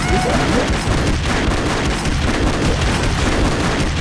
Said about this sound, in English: Bouncy bullets?